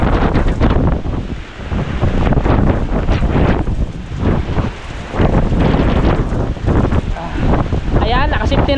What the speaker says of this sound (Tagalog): Kaya medyo malakas din yung hangin.